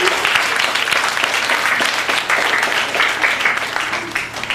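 An audience at a security awareness session breaks into loud, sustained applause, a dense patter of many hands clapping close by without pause.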